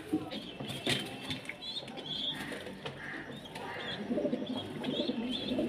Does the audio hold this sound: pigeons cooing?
yes